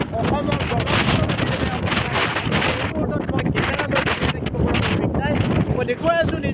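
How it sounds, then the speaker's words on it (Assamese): Strong wind from Cyclone Remal over the Brahmaputra river in Assam pounds the microphone in a continuous gusty roar, with a reporter speaking underneath throughout. "আর এয়া কাল ধুমুহা ঘূর্ণী বতাহ রুমালির প্রভাব"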